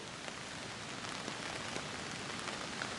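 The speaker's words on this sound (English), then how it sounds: "It's raining out still." Steady rain patters on a surface at a campsite on a Colorado road trip, a soft continuous hiss with occasional distinct drops, faint and unbroken throughout.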